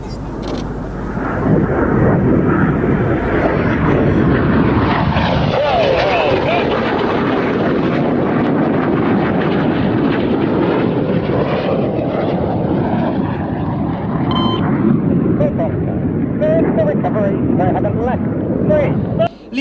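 Red Arrows jets fly an air display, their engines a loud continuous roar that swells and sweeps past overhead for most of the stretch, then eases away, with crowd or commentary sound mixed underneath.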